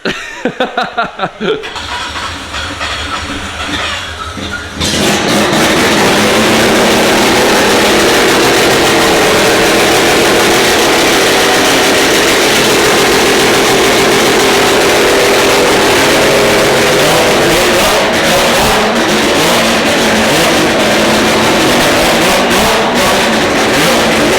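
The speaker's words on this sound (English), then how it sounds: "That's the loudest thing I've ever heard, but I love it. Well, it's got static exhaust." After a few seconds of sputtering, a car engine with a straight exhaust roars to life and stays extremely loud and raw, rumbling and revving continuously.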